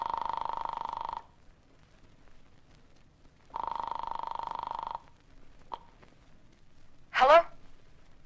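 Telephone ringing in a radio drama after a call is dialed: two long, steady ring bursts with a gap between them, followed by a click and a brief clatter as the receiver is picked up.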